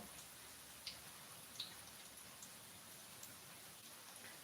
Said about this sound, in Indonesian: Di Makassar hujan Londo Java.